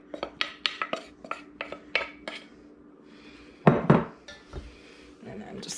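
Clattering utensil knocks and scrapes against a bowl while liquid is worked into dry ingredients for Jamaican bulla cake, a quick burst of sharp clinks followed by a pause and a few heavier scrapes, with a voice speaking between them.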